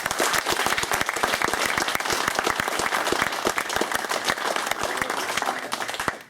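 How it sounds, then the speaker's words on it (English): Sustained applause from an audience at a club tournament, honouring everyone who entered the model painting contest; dense, continuous clapping at a steady level throughout. "If we can give a big round of applause to everyone who entered the model"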